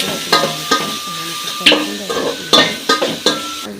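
Tomatoes sauté in hot oil in a pan with a soft sizzle underneath. A spoon stirs them close up, making repeated sharp scrapes and clinks against the metal pan at an irregular rhythm.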